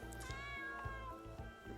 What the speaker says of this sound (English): We have another cat out here.